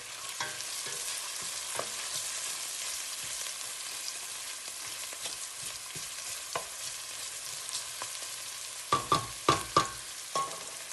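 Onions sizzle steadily in hot oil in a pan while being cooked for sukuma wiki, with a constant bright frying hiss and a few sharp stirring clatters near the end.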